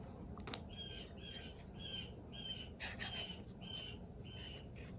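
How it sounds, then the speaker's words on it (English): A crow caws several times outdoors in January, faint and distant, the calls spaced in a loose repeating series over a quiet background. "Now, what is that? Is that a crow?"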